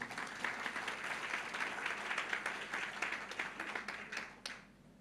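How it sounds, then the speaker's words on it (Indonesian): A church congregation claps together, a fairly soft, steady ripple of applause that tapers off at the end. "Kok tepuk tangannya kecil bener sih?"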